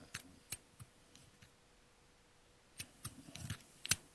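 Sharp metallic snips from a pair of scissors, like a storybook sound effect of cutting open a sleeping wolf's belly, come in scattered clusters with a quiet gap in the middle, fairly faint and with no voice.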